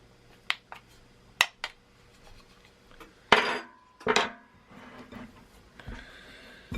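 A metal spoon scrapes and clinks against a mixing bowl, pulling sticky Irish soda bread dough off the sides, with several sharp close taps followed by a couple of longer scraping strokes and quieter rustles.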